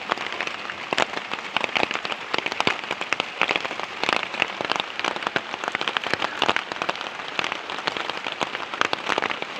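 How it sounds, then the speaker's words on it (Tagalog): Light drizzle falls outdoors beside a charcoal cooking spot, a steady close patter of fine drops spread across the whole stretch with no talking. "Ambon-ambon pa ngayon"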